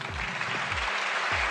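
Canned applause plays as a steady, even crowd-clapping texture during an online product presentation. It is fairly quiet and continuous, with a few soft low thumps underneath.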